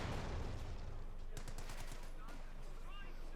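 Machine-gun fire and scattered gunshots from a Company of Heroes 2 World War II strategy match, a steady battle din with bursts of rapid reports under a commentator's speech.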